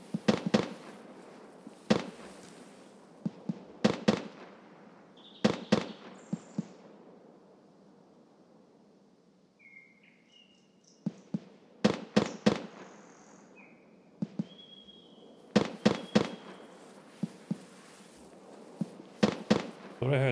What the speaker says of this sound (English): Thought I heard some like faint suppressed shots